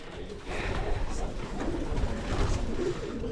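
Pigeons in an aviary loft: low, muffled cooing and rustling from nearby birds, steady and moderately loud over a noisy background, no clear talk.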